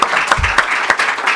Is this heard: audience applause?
yes